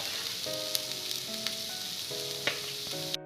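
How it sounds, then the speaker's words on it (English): Onion roasting with a little salt on a tawa for a homemade vegetable pizza, a soft steady sizzle with a few light utensil taps and a faint tonal hum in the background. "Roast the onion. Little bit of salt."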